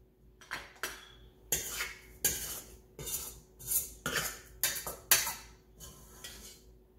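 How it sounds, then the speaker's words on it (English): Pounded yam, made with a KitchenAid mixer, is cut into a big serving bowl: a string of sharp clinks and scraping knocks of utensil against the bowl, fairly close and irregularly spaced, with no voices. "So I'll just cut it into my, my big bowl for serving."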